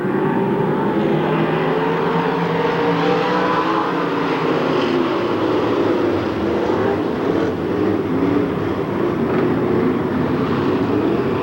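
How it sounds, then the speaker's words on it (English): A pack of dirt track race cars at a county fair speedway in 1993 roars loudly and continuously as throttles open for the green flag start, the dense engine drone swelling and shifting as the field accelerates. "Throttles will start to go down right about now, and we look to go green flag racing"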